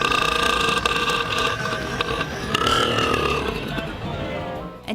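A very loud, record-setting burp from the holder of a 109.9-decibel burping record: one long, continuous rumbling belch that fills nearly five seconds with a sustained guttural roar.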